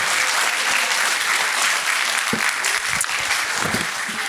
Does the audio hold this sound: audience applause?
yes